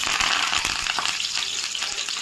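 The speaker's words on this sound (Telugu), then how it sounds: "అదిగండి తాలింపు వేసుకుంటాంలే తను" Tempering spices sizzle and fry in hot oil, the first step of a drumstick leaf curry in an anganwadi kitchen; a steady, close crackling hiss runs throughout with a few brief pops, and no voices are heard.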